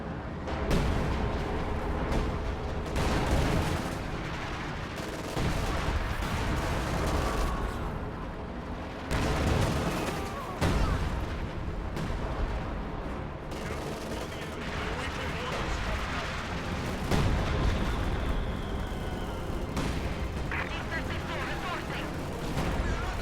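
Repeated booming artillery and gunfire from LEFH howitzers and sniper rifles in a multiplayer strategy battle game, loud dense bursts filling the whole stretch with barely any pause.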